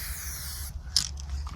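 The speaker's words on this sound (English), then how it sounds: "you can see the overspray as I'm spraying is going into those little crevices, ensuring that it's nice and crisp" Spray paint can spraying onto a surface with small crevices, a steady close hiss with a brief brighter burst in the middle, over a low background rumble.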